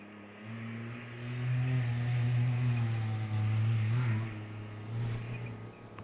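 Can-Am off-road race vehicle, number 902, passing on a pine forest desert rally stage, its steady engine drone swelling as it nears and then fading, with a brief lift around the middle.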